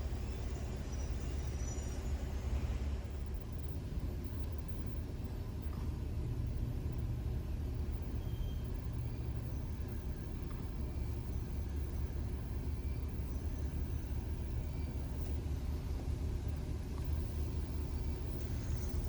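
Slow car traffic on a one-lane road through Cades Cove, a steady low engine rumble of idling and creeping vehicles heard from inside a car, continuous and even with no talking.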